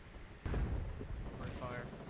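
120mm artillery firing in the war game Foxhole: one deep booming shot, heard from a distance, with a rumbling tail and faint background noise.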